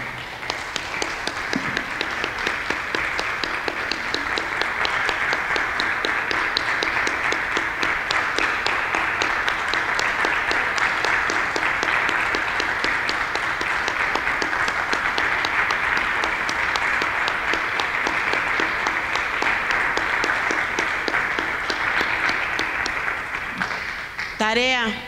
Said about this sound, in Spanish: Vamos a dar un aplauso a nuestro Señor.